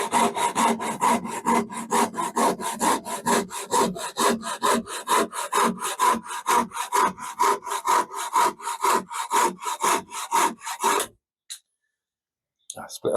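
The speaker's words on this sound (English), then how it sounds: "Okay, sawing complete." A hand saw cuts through wood in quick, rhythmic back-and-forth strokes, a rasping rub repeated steadily for about eleven seconds before the cut finishes and the sound stops.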